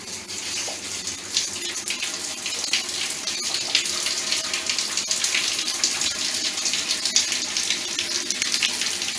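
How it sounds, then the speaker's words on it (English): Water gushes hard and steady from a shower head boosted by a Grundfos regenerative booster pump, a loud continuous hissing spray with small splashy fluctuations throughout and no talking. "You can see the power of the shower head."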